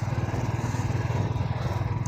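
Motorcycle engine running steadily close by on a foggy road, a continuous low pulsing drone with no talk.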